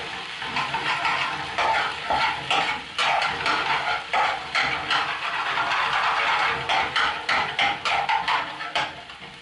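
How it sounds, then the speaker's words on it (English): Garlic and ginger paste frying in a pan for a curry while being stirred, with steady sizzling and repeated scraping of the spoon at close range and no voices. "so you just give that a stir, cook that off a bit."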